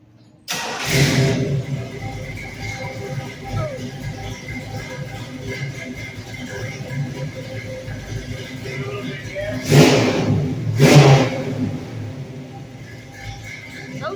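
A 1964 Chevrolet Nova station wagon engine idles with a deep muffled rumble through its muffler, then two sharp revs roar through the exhaust near the end, close and loud.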